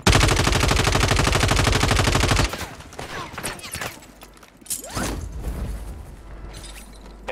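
Rapid automatic gunfire in the Call of Duty video game, a dense sustained burst of machine-gun shots for a couple of seconds, then scattered clatter, thuds and game effects at lower volume.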